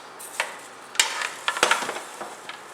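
A spoon stirs Cajun chicken and rice in a pot, giving several close scraping strokes and soft knocks against the metal over a light sizzle of frying.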